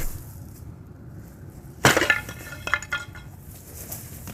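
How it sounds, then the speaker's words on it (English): A sudden crash of a ceramic plant pot shattering, followed by a few scattered clinks and rattles of falling pieces, then quiet. "Pot definitely shattered."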